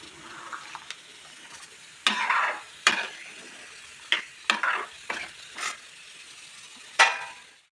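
A spoon stirs local chicken curry in a pan with hot water added, giving intermittent scraping strokes, about eight sharp bursts at irregular intervals over a faint simmering background, with no talking.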